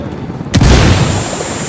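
A frag grenade in Ghost Recon Wildlands detonates in a single close, loud, booming blast, with a short rumbling decay after it over a background of combat noise.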